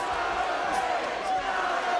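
A Chicago boxing crowd roars in support of Don George during his fight with Osumanu Adama, a loud continuous cheer with rising shouts, heard under a commentator's voice.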